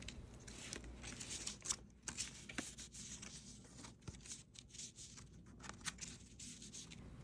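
Soft rustling and scraping of differently textured Japanese paper sheets being handled and rubbed, with light crinkles and brushing strokes, quiet and close.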